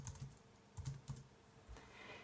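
Soft keystrokes on a computer keyboard as a food name is typed, a few quiet, irregular clicks in a short run with no voices.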